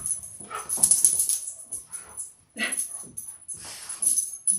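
A puppy barks and whimpers in a leather bag-making studio, with several short high yips and soft whines in uneven bursts close to the microphone and no talking over them.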